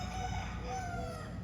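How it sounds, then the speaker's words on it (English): Roosters crowing and chickens clucking outdoors in Key West, a drawn-out crow rising above a steady background of birds and ambient noise. "So many chickens and roosters."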